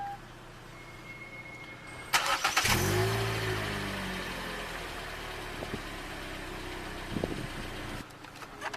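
Push-button start of a 2011 Hyundai Elantra Limited with a 1.8 engine: a brief crank catches into a loud flare, then settles into a steady, smooth idle heard close by, with a couple of faint clicks near the end.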